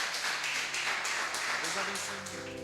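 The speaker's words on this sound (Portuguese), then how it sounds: "Vamos aplaudir a Jesus." Church congregation applauding together, a steady broadband wash of many hands clapping close by, with speech and a sustained tone emerging toward the end.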